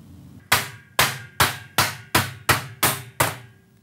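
An aluminum fastener cover being fitted onto the jamb of a PGT aluminum sliding glass door: seven sharp, evenly spaced taps close by, each ringing briefly, with no talk.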